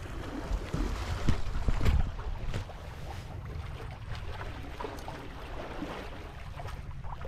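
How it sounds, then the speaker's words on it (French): A sailboat ghosting along under sail in light wind off La Ciotat on the Mediterranean, with a soft steady wash of water along the hull and faint breeze, a slightly louder swell of water early on, no voices. "on avance tout doucement à la voile. Il n'y a pas beaucoup de vent"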